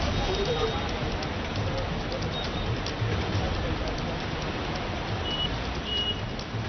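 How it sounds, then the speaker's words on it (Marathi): Heavy monsoon rain pours steadily over Thane, near a toll plaza with slow-moving traffic, as a dense, continuous hiss that stays loud and even throughout, with faint birdlike chirps now and then. "इथे सुद्धा पावसाला सुरुवात झालेली आहे मुसळधार पाऊस कोसळताना पाहायला मिळतो"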